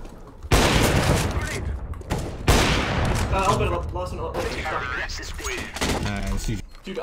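Rapid bursts of gunfire from Counter-Strike: Global Offensive crack out in loud volleys, interleaved with game effects and a voice talking over the action.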